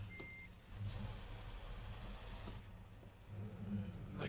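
A truck reversing in Euro Truck Simulator 2, with one short high beep at the start over a low, steady engine rumble.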